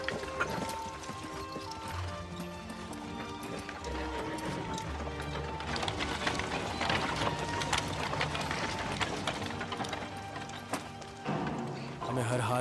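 Horses clip-clop in a dense action-film soundtrack, hooves mingling with music, clanking effects and talk throughout, with a brief whinny possible amid the busy mix.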